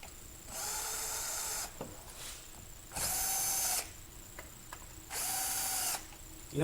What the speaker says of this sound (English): You don't have to have power tools, but it helps.